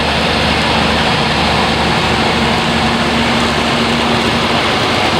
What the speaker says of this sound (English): the Fendt tractor on the harvester